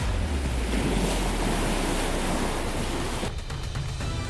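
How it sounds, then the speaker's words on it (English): A large wave surges forward and crashes against sea ice, a steady, loud roar of churning water and spray that continues without a break, with a brief drop in the rushing noise near the end. "The surge smashes into the ice, sweeping the unlucky prey into the freezing water."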